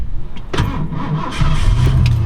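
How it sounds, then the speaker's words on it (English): A 1957 Ford Courier sedan delivery with an electronically fuel-injected 302 HO V8 cranks briefly and fires right up, settling into a loud, close, steady idle rumble. "Electronic fuel injection starts right up."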